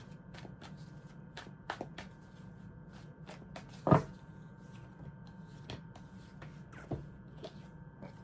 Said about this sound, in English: A couple more shuffles here for Aquarius